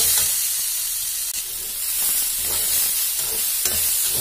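Maize kernels are stirred as they fry in a pan, giving a loud, steady sizzle and hiss with occasional scraping from the stirring, close up and without talk.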